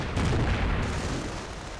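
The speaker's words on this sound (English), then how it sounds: "Incoming enemy fire." Distant booms of incoming enemy artillery fire in a WWII strategy game, a rumbling low blast that swells and then fades into a sustained roar, with no talking.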